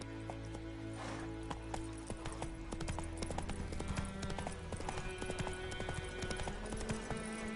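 A horse in The Witcher: Wild Hunt gallops with steady, close clip-clop hoofbeats over game music and ambience, without speech.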